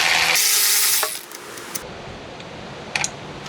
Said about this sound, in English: grab you a 13mm socket, come right here, take that off.